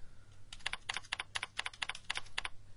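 Quick, steady typing on a computer keyboard to enter a command, a close run of about a dozen crisp key clicks over a low hum, with no voices.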